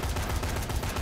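Rapid gunfire in the video game Dead Rising 3, a dense burst of repeated shots in quick rhythm, loud and close with no talk over it.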